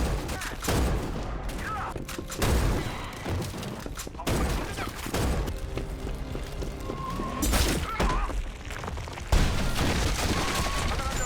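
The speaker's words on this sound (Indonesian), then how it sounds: "Perang dan tembakan dimulai." Bursts of gunfire in a battle scene from a film, repeated loud cracks and volleys in uneven clusters over a noisy, chaotic background.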